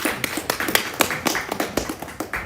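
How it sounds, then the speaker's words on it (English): Audience applause at a festival closing ceremony, with a steady burst of many hands clapping together, moderately loud and continuous, no voices over it. "With a round of applause, Mrs. Abiu."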